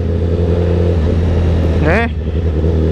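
A 2018 Honda CBR 1000RR Fireblade motorcycle engine runs with a loud, steady, close-up rumble throughout, and a brief voice-like sweep rises near the middle.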